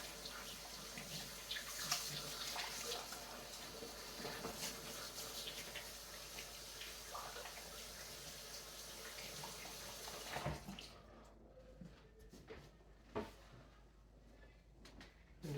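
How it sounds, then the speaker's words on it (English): Tap water runs steadily at moderate level while hands are rinsed during sourdough bread making, then cuts off abruptly partway through, leaving a quieter room with a few scattered knocks and clicks. "kind of wash your hands again"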